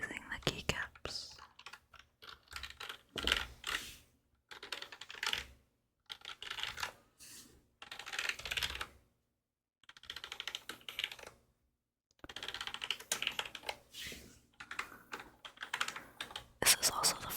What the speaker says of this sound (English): This is just lightly grazing the keycaps.